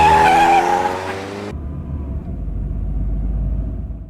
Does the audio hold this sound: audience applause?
no